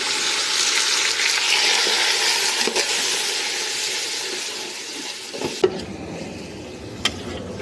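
Ginger garlic paste fries in a pan for mutton biryani with a loud, steady hiss. The sizzle drops off sharply near the end, leaving a couple of clinks from a utensil.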